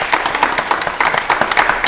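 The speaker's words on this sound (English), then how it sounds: "Okay, round of applause for Les." A short burst of applause from a game show studio audience for an antiques quiz contestant, brisk claps lasting about two seconds.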